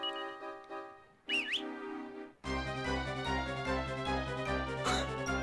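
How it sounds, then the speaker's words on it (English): A whistle sound effect from the video game Dragon Quest IV: Torneko's Wild Ride rises briefly and wavers mid-clip, set between a soft chiptune melody and louder game music that follows. "Now you can whistle to your heart's content."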